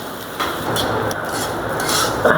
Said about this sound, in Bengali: একটা একটু ভেজে নেব আমি